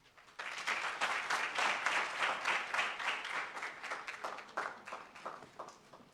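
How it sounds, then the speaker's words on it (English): An audience at a tertiary student council presidents' panel discussion in Botswana applauds the arrival of a minister at the podium, with steady moderately loud clapping that swells and then gradually thins out over six seconds. "That round of applause."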